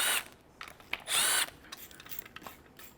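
Power tool working the bolts on the stock 6.2 oil pan of an LS engine going into a 1957 Chevy Bel Air, heard as two short, close, whirring bursts with quieter clicks and clatter between them.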